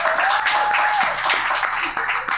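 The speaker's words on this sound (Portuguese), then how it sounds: "Uma salva de palmas pra isso." Applause during a Brazilian podcast recording, a short burst of dense clapping from a small group, fairly close and steady, with a brief vocal sound mixed in.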